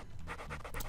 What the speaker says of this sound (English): the dog, this whole thing, he kind of gets annoying, with all the noises he's making right now